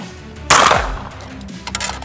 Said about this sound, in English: I'm going to shoot a few shots at some clays.